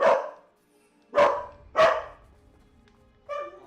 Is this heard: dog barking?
yes